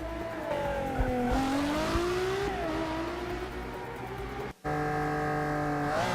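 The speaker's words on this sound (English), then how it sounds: "That's the sound of the Ferrari engine being unleashed here" A high-revving Ferrari engine roars as the car accelerates through the gears on a lap, pitch climbing and dropping with each shift, loud and close.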